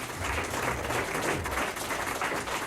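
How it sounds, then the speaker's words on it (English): A studio audience applauds Tori Amos at a Chicago radio session, a continuous moderate wash of clapping from a small crowd with no talk over it. "How about a big round of applause?"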